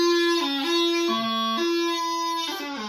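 Squeaky, squawking reed tones from a bagpipe goose practice chanter fitted with an easy reed, sounding alone and close as pitches waver and jump between notes.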